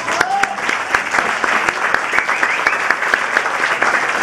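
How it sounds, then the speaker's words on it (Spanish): Audience applause at a tango show, steady dense clapping from a crowd filling the room, with a faint whistle or voice cutting through near the start. "Pido un aplauso para ellos."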